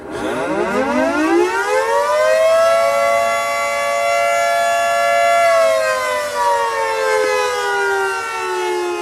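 A civil defense siren winds up to a steady, sustained wail that carries loudly and evenly, with a faint second tone underneath.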